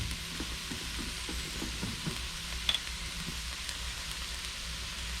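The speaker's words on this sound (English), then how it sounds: "I'll saute the rest of the vegetables in." Vegetables sauteing in a pan over medium-low heat, a steady soft sizzle with occasional stirring scrapes and small clinks, close and continuous throughout.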